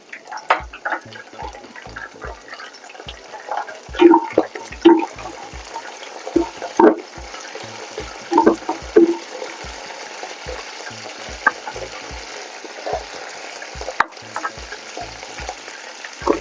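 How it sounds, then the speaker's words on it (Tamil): Handful of curry leaves crackling and sizzling in hot oil in a clay pot, with popping bursts and spattering over a steady frying hiss, close and fairly loud, no talking. "கருவேப்பிலை போட்டுக்கலாம் ஒரு கைப்பிடி அளவு."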